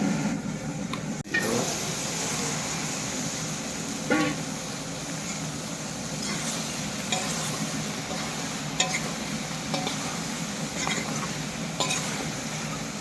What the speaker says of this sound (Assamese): তেল গৰম হৈ গ'ল, এতিয়া পিঁয়াজ জলকীয়া আগতে ভাজি লৈ লওঁ।